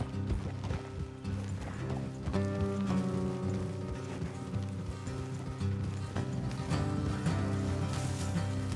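Hooves of horses galloping in Red Dead Redemption 2, a steady clip-clop running throughout over a dense bed of game music and ambience, with an occasional whinny.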